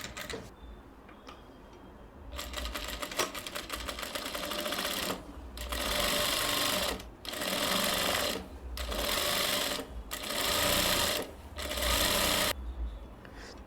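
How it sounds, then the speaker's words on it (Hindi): Sewing machine stitching a coat collar on a kurti runs in one long burst, then five shorter even bursts separated by brief pauses, its rapid needle clatter close and steady. "तो अब हम जो है मशीन के ऊपर आपको कैसी सिलाई लगाते हैं ये देख।"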